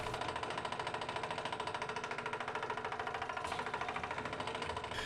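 A Harbor Freight benchtop drill press, the $80 model, bores into metal with a steady mechanical whir and a fast rhythmic chatter that runs without a break from start to finish, close and moderately loud with no talking.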